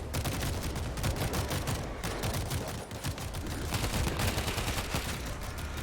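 Relentless gunfire in a zombie shooter game, a loud, unbroken barrage of rapid overlapping shots with heavy low-end rumble that holds steady throughout.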